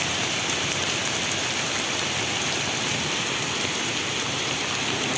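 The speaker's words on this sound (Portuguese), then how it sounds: "Muita chuva." Heavy rain pours during a storm in Ubatuba, Brazil, a dense, steady roar of water on surfaces that runs unbroken throughout with no one talking.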